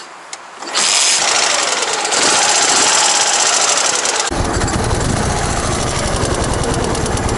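A Dnepr motorcycle engine cranks and catches after a quiet moment, then runs steadily at a loud, close idle with a rough, throbbing exhaust note that deepens partway through.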